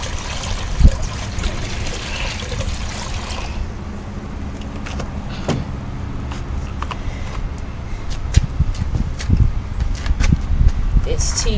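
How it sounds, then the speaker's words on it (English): Water is poured from a bucket into bottles outdoors, a continuous trickling gurgle with occasional clunks and knocks, close and moderately loud. "Once I get quite a bit of water in the bucket, then I transfer it to the bottles."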